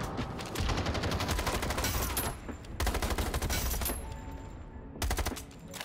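Gunfire in a free Call of Duty game comes in loud rapid automatic bursts, several volleys broken by brief pauses, each a dense rattle of close shots.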